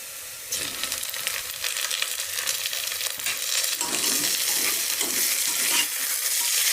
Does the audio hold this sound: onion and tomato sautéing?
yes